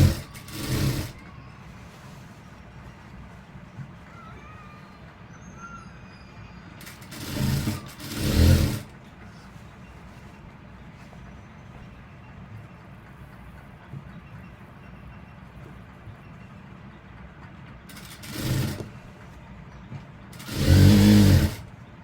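A sewing machine stitching an elastic uniform pant runs in several short bursts of rapid mechanical rattling, separated by long quiet stretches where only faint handling noise remains.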